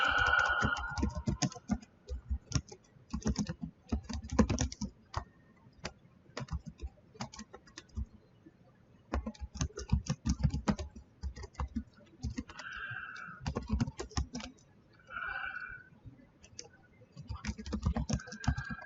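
Typing on a computer keyboard during C# programming work, with rapid clusters of close key clicks, short pauses between bursts and occasional faint background sounds.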